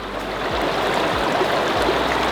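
River water flows through Zion National Park, a steady, close, broadband rush with no pauses, punctuated by three soft low thumps at roughly even intervals; no one speaks.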